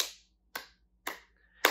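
A group of children clap their hands in a classroom game, four sharp, bright claps spaced roughly half a second apart, near and loud, each followed by a brief decay and silence, with no talking.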